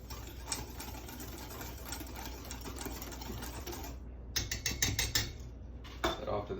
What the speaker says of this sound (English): Going to take our whisk, mix it together.